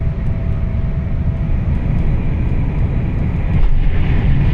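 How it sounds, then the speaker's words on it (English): An Avanti West Coast passenger train rushes steadily past at close range, heard from aboard another moving train as a continuous loud rumble and roar with a brief louder swell near the end. "Another Avanti West Coast service flashes past us heading towards London"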